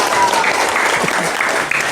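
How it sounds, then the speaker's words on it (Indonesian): Audience applause at a first-anniversary gathering of an Islamic study group (Taklim Ma'rifat), steady and sustained for two seconds with no talk over it. "Tepuk tangan untuk anniversary Taklim Ma'rifat yang pertama."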